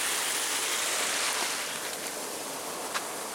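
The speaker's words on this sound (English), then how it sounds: "here's another little dam and waterfall" Water pours steadily over a small dam and waterfall between lakes, a constant broad rushing wash with no pauses, close and fairly loud.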